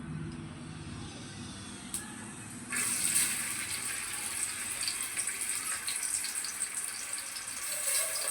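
Tap water runs into a sink as dried shrimp are rinsed clean, a faint trickle at first that jumps to a louder, steady splashing gush partway through.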